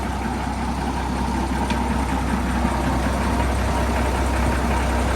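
An M756A2 deuce-and-a-half military pipeline truck, freshly fitted with 11:00R20 Goodyear G177 tires, idles with a steady, loud, low diesel rumble that holds unchanged throughout.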